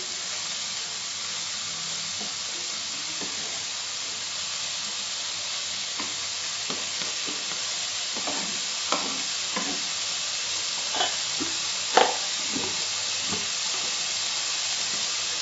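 Crab pieces frying in oil with onions over a medium flame for a spicy tomato crab: a constant bright sizzle and hiss with occasional spoon scrapes and small pops, steady and close.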